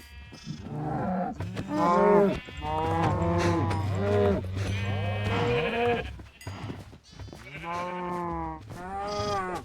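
Repeated loud video game sheep bleats and moos in quick succession, close and clear, with short pauses between calls.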